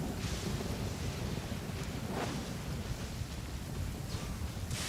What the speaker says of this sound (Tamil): எங்க பார்த்தாலும் மின்னல் இடி வந்துட்டே இருக்கு